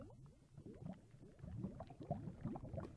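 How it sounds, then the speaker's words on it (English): Lava bubbles in Minecraft, heard as a faint, continuous cluster of low gurgling pops with a steady rhythm and no voices over it. "It's a bubbling crude. Apparently there's a bunch of lava above us somewhere"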